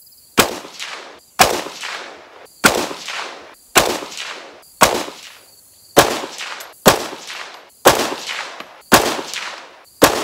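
Single 6.5 Grendel rifle shots from PSA and JP Supermatch rifles, loud and close, fired one at a time at a steady pace of roughly one per second, each followed by a short echoing decay.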